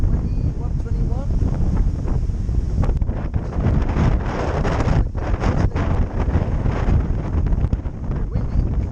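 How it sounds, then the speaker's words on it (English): Strong wind buffets a microphone outdoors, a steady roaring rush with gusty surges and no pauses across the whole stretch. "Very windy."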